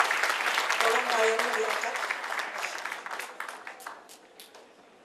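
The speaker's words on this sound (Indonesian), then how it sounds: "Kita tepuk tangan dulu saudara." An audience claps at a church testimony event, a dense burst of applause that gradually thins and fades over several seconds while someone speaks over it.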